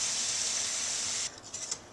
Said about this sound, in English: you can hear the sizzle subside